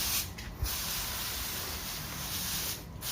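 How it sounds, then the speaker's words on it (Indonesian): Pesticide sprayed onto grapevine leaves and stems, a steady close hiss of fine mist running continuously with only slight dips. "Kita semprot semuanya, bagian batang-batangnya juga"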